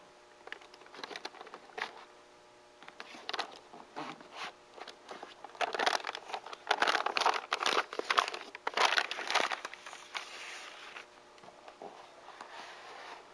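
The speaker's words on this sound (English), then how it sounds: "Wrap the frame in a rubberized roofing underlayment like VELUX type" Rubberized roofing underlayment being wrapped around a roof window frame for metal flashing installation, heard as repeated crinkling and rustling bursts with brief tearing, zipper-like strips, fairly close, with no talk.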